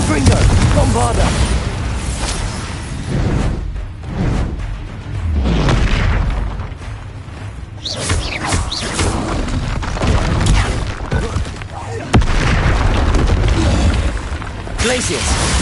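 Confringo and Bombarda explosion spells in the video game Hogwarts Legacy, a rapid run of loud booms and crashing bursts layered with busy combat noise, a speaking voice mixed in throughout.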